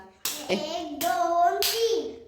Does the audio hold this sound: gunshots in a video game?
no